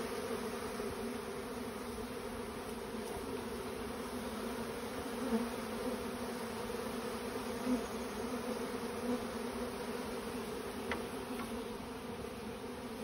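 A honeybee swarm in an apple orchard hums around a hive box in a dense, steady buzz of many bees close by, with a few individual bees droning past louder for a moment.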